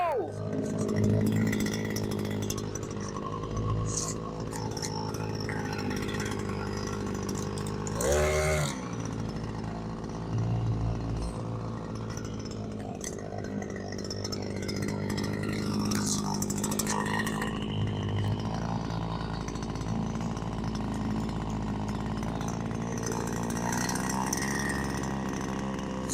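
A new 52cc 3.5 HP two-stroke gas boat motor buzzes loudly and raspily after one pull, a steady close drone with a brief sharp burst partway through, while someone talks over it.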